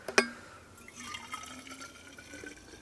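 Freshly boiled water is poured to make tea, a short sharp clink at the start followed by a soft trickling fill that fades over a few seconds, quiet and close.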